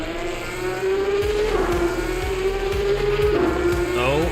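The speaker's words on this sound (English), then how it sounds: "You can't beat a bit of Porsche engine." A Porsche race car engine in a racing game at the Red Bull Ring, loud and close, revving hard with repeated sharp upshifts and rising pitch sweeps between gear changes, alone without talk.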